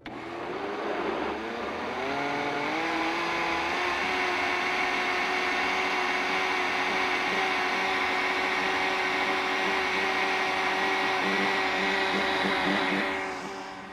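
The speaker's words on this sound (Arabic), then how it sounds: "نجيب بودرة الكريم شانتيه النباتي، في عند مستلزمات الحلواني وعند العطارين نباتي، هنحط عليها مية ونضربها" An electric hand mixer whips vegan whipped cream powder with water, a loud steady motor whine that spins up at the start, holds constant for several seconds and cuts off near the end.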